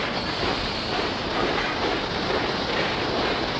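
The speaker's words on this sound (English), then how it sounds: "The Royal Train is running away." A cartoon train rumbles steadily along the tracks, a loud, continuous roar with a faint rhythmic clatter of wheels.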